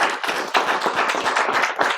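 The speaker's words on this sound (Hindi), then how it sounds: "उनके लिए जोरदार तालियां" Acting class students clapping together in a room, a dense, loud burst of hand claps lasting about two seconds, close and continuous.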